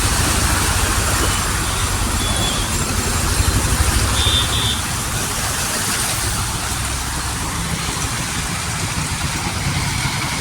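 Vehicles drive through a flooded street in Howrah, Belgachia, a steady rushing wash of water and engine rumble continuing throughout, with passing traffic noise swelling slightly mid-way.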